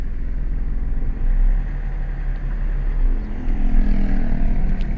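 Learner driver's car lurching as the clutch is released in first gear, a steady low engine rumble with uneven surges and dips in loudness, close and continuous.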